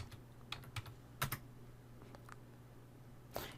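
Sparse keystrokes on a computer keyboard as commands are entered, with soft, close clicks in small clusters over a quiet background hum.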